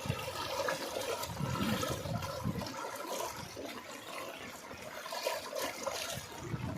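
River water swollen with rain flows in a steady, turbulent rush, close and continuous, surging slightly in waves.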